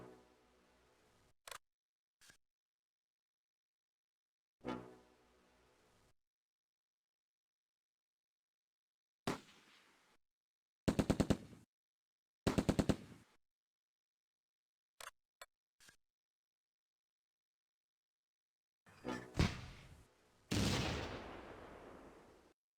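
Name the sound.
machine gun fire in Close Combat video game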